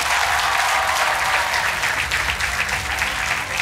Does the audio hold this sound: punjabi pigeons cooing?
no